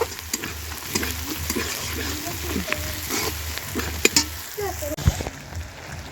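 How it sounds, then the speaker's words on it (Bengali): Chicken and onion sautéing in oil at an outdoor picnic cookout, a steady close sizzle with scraping stirs and a few sharp clinks, heard without talk over a low background hum. "তো এই দেখো চিকেন কষা হচ্ছে।"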